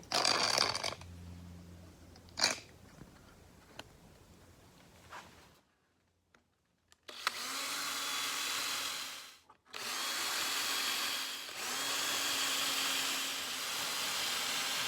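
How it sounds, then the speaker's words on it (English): A power drill whirs steadily in two long bursts while drilling through a clamped part for a circular blade sharpener build, briefly stopping between them, with a few clicks and knocks beforehand. "So now I can drill through"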